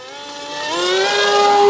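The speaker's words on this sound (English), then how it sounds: "Geez, I hit the prop on my roll." Steady rising electric motor whine from an 800 mm foam RC F-14 Tomcat model jet in flight, pitch climbing smoothly and growing louder, with no distinct propeller strike standing out.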